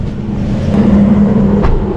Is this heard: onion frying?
no